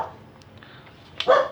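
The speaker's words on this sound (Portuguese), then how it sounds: "desculpa aí o cachorro latindo" A house dog lets out a short, sharp bark close by at the very end, following a quiet, low background.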